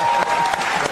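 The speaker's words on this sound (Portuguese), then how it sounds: "Essas palmas podem ser até melhor." An audience applauds, a brief burst of dense clapping from many hands with a faint crowd murmur beneath it.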